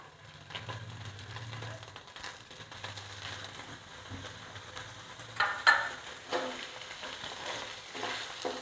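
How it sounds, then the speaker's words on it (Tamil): 200 grams of paneer frying lightly in a pan over a low flame, giving a soft continuous sizzle broken by a few louder stirring scrapes, with a voice talking now and then. "இந்த 200 கிராம் பன்னீரை இதில் போட்டு லைட்டாக ஃப்ரை பண்ணி எடுக்கணும்."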